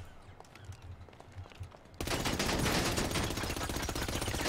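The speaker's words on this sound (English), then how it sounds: "What was that explosion noise?" Sudden loud explosion in GTA 5 gameplay, a sharp burst that then keeps going as a dense, crackling roar for several seconds after a quieter stretch.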